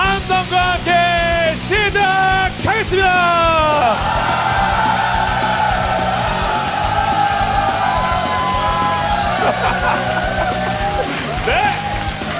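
A crowd yells, whoops and cheers at a live mobile esports tournament, a loud sustained roar that follows an announcer's rising voice and continues for several seconds beneath scattered shouts.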